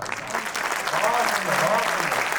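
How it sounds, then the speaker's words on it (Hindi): Applause from a crowd at a Hindi comedy poetry performance, building after a brief lull into a steady roar, with voices mixed into the clapping. "आपकी तालियों का घनत्व थोड़ा कम रह गया है"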